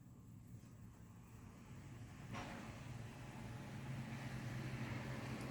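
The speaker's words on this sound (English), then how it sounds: "you're hearing all the traffic from outside, because I have the back door open" Street traffic drifts in through an open back door on a nice day: a faint, distant wash of vehicle rumble that swells slightly as something passes, with no talking.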